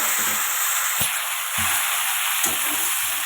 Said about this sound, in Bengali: এখানে পটল আলু ডাটা তো এটাই তেলের মধ্যে দেবো